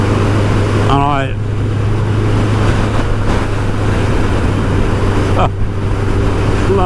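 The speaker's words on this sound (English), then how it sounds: "blowing a gale again" Strong gale buffets constantly during a ride in a BMW K100LT motorcycle sidecar, a loud, unbroken rushing roar with a steady low hum beneath and brief speech fragments cutting through.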